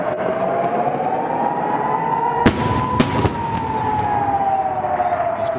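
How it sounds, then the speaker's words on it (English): An Iron Dome interceptor missile launches with sharp cracking bursts near 2.5 and 3 seconds over a steady roar. A rising and falling siren-like whine carries through the whole stretch. "Iron Dome launches a missile of its own"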